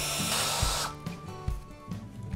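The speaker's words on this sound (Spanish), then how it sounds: "ahora voy a hacer unos agujeros con esta broca circular en estos plásticos rígidos" A drill fitted with a circular hole saw bores through rigid plastic panels, a loud, steady high whine for under a second that drops off into lower rattling and scraping as the cut finishes.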